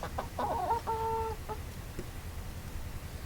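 A few hens cluck and squawk nearby in short bursts, with one drawn-out tonal call, over steady outdoor background noise; no talking.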